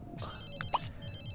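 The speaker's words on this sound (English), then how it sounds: "Whose phone's ringing?" A phone rings in The Sims 3 life-simulation game, its electronic ringtone trilling in a steady repeating pattern over quiet game music, with two brief brighter chimes in the middle.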